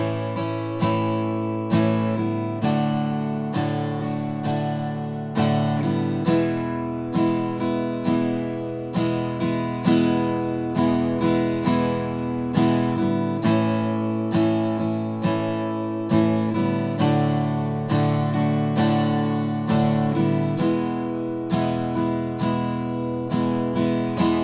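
Acoustic guitar strumming a simple tune on three chords, a 1-4-5 progression in A, steady rhythmic strums repeating evenly throughout, close and clear with no voices.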